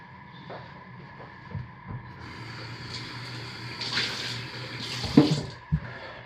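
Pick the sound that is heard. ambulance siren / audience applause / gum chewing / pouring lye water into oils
pouring lye water into oils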